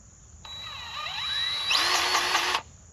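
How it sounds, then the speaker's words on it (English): A DeWalt DCGG571B cordless grease gun whirs with a steady motor whine as it pumps grease into a fitting, and the pitch rises near the end before it cuts off abruptly. "Just pushes grease right out of the fitting, no problem."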